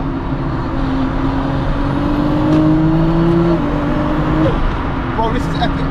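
A Toyota Supra MK4 fitted with a dual-clutch DCT gearbox accelerates hard, its loud engine note rising in pitch, dropping at a gear change, then climbing again, with cabin talk layered over it.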